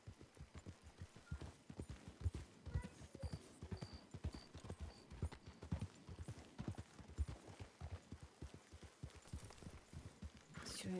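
Horses' hooves clip-clop steadily on the ground as the animals are led and tied up in an Old West role-play game, a busy run of close, uneven hoofbeats filling the scene.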